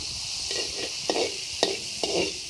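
Garlic, ginger and onion frying in oil for a meat curry, a steady close sizzle broken by a few scraping stirs of a spoon in the pan.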